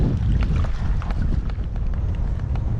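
Gusty wind buffeting a microphone on a lake during bass fishing, a loud low rumbling roar with scattered clicks and splashes, steady throughout.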